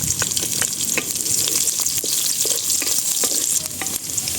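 Onions sauté in a pan with garlic and ginger for bulalo, producing a loud, dense sizzle broken by regular clacks and scrapes of a stirring spoon.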